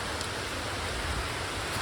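Steady rain falls at Na Muang Waterfall on Koh Samui, a dense, even hiss of drops close by that fills the whole stretch with no gaps and no voices.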